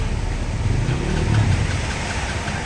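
A motorcycle engine runs steadily during a test start, a continuous low mechanical hum with a slight rise in the middle, close by and with no talk.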